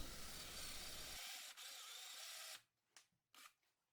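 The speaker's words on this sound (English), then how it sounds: "I gave up and went with a bench vise and hand drill" A hand drill whirs steadily for a few seconds, drilling a hole in a piece held in a bench vise, then stops, followed by a couple of short scraping or handling noises.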